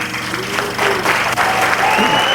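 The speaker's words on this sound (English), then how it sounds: "Please, let's give him a big round of applause." A crowd at a speaking event breaks into a big round of applause for a man walking to the podium, loud and dense clapping that carries on steadily with faint whistles over it.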